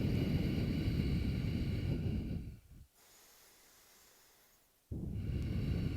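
Heavy, steady breathing during a yoga power flow class, a long broad rush of air on each side of a quieter pause, close and loud with no talking.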